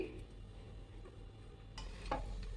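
Egg noodles are stirred with coriander leaves in a pan, a quiet soft sizzle under faint scraping and a couple of light utensil taps, close by and brief.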